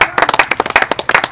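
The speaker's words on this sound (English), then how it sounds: "You need a hand of applause." A small group clapping at a live comedy show, sharp distinct hand claps in an uneven quick rhythm, close and loud, with brief gaps between bursts and no talk over them.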